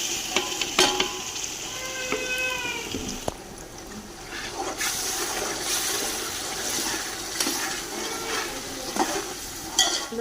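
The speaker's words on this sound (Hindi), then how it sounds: "लहसुन अदरक के पेस्ट को अच्छे से भून लेंगे।" About a quarter kilo of garlic-ginger paste frying in a pot for haleem, a steady hiss and sizzle with scattered clicks and scrapes of stirring, close and continuous without talk.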